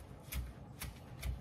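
A knife chops fresh herbs on a board in three soft, evenly spaced thuds over a faint background hiss.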